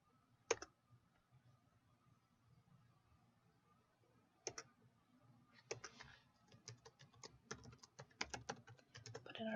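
Computer keyboard keys are pressed in scattered bursts of typing, with a few isolated mouse clicks earlier, all close and fairly quiet with no talking.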